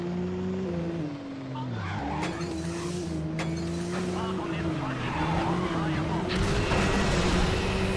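A Nissan 350Z in the racing video game Midnight Club 2, its engine droning steadily at high speed with a shifting pitch, tires squealing and skidding, while someone talks over it.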